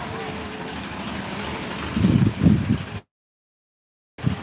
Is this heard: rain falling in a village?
yes